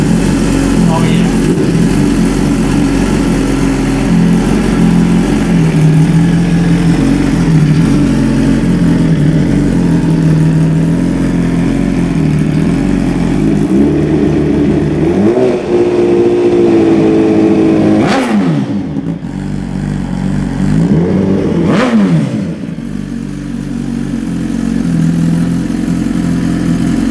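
A 2017 Suzuki GSX-R1000 motorcycle engine being prepped for drag racing runs loudly and steadily throughout, with two sharp rising-and-falling revs late on.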